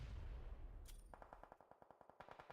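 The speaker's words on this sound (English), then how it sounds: "You do hear a lot of gunshots around as well" Rapid gunfire from a PUBG Mobile esports match: a loud sharp burst, then a steady run of evenly spaced automatic shots with a second burst near the end, no talk.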